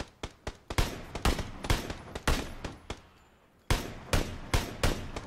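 Gunfire in the battle royale shooter PUBG comes as sharp, close single shots and quick pairs in an uneven rhythm, with a short gap before another cluster of shots.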